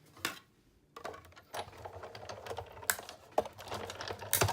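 Paper die-cutting machine running a single-layer oval thinlet die through for card making, giving a steady mechanical grinding and clicking roll with uneven bumps and a few sharper clacks over about four seconds, close and fairly quiet.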